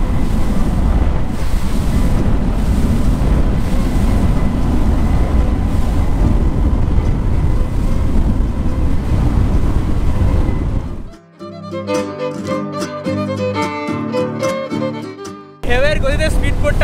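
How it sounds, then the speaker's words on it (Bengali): A speedboat heading out on an island tour off Krabi toward Phi Phi, Thailand, with loud steady wind and rushing water noise on the open sea for most of the clip, then the sound gives way abruptly to music near the end. "ঢেউয়ের গতিতে স্পিডবোটটা মাঝে মাঝে নড়ছে"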